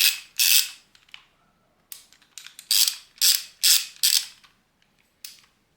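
Close, crisp ratcheting clicks from a WALTER torque wrench as its direction change lever is switched and the mechanism is worked. Several short bursts of rapid ratchet-pawl clatter are separated by brief silences, with no talking.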